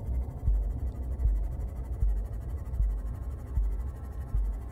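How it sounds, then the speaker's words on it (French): Low, muffled heartbeat thumps in the underwater video game Subnautica, pulsing steadily under a droning ambient hum and deep rumble, with no talking. "J'entends mon cœur qui bat."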